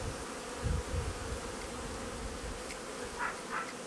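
Honeybees buzz around candy in an Alpine hive. There is a dense, steady hum up close, with a few louder passes as single bees fly near.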